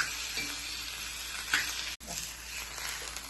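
Elephant foot yam fries with curry leaves in a pan, a constant close sizzle and hiss with soft stirring scrapes and a momentary break in sound partway through.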